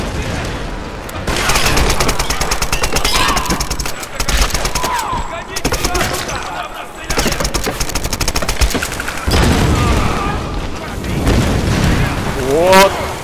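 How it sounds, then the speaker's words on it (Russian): Explosions and bursts of gunfire crackle and boom through a Tomb Raider battle, dense rapid shots layered with heavy blasts, while someone talks over the action. "Вот это взрыв!"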